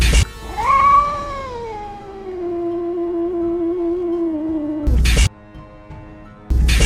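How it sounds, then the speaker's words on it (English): A cat lets out a long, drawn-out yowling meow that slides downward in pitch, followed by two sharp noisy bumps, with no talking. "come out of her hiding spot and meow aggressively until morning"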